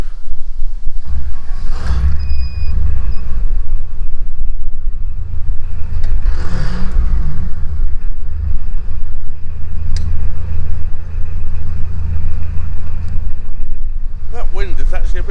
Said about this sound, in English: So let's start this engine up